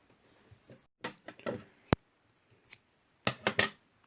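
Scissors snip through DMC embroidery thread wound around a small card while making pompom earrings: a few sharp, close cutting clicks and short rustles separated by quiet gaps.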